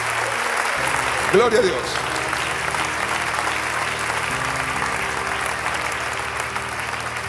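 A church congregation breaks into sustained applause, dense and steady through the whole stretch, while a voice calls out over the clapping near the start.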